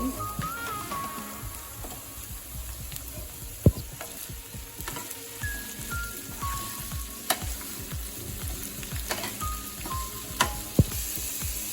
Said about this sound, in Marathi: तर इथे ब्रोकोली आपली चांगली फ्राय करून झाले